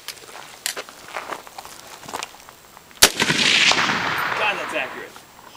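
Airsoft guns firing at an outdoor practice session in Arizona, a sharp crack followed by a sustained burst of rapid shots, loud and close, with scattered thuds and movement before it.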